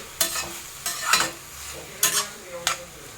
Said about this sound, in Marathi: चांगलं तुपामध्ये परतून घ्यायची ही कैरी